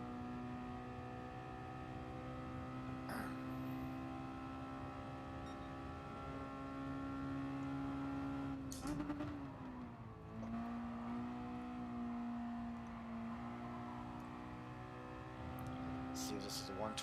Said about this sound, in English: Not sure if the engine noise is going to be too loud.